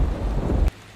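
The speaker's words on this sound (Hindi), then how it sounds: "राजन भैया, हमारी मदद करो, तूफान में मेरा घर टूट गया है।" A thunderstorm roars with heavy rain and a rumbling thunder wash, loud and close, then breaks off suddenly into near silence.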